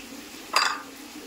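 A spoon briefly scrapes and turns cabbage curry with a fish head and ground garam masala in a pan, making one short, close clatter against quiet background hiss.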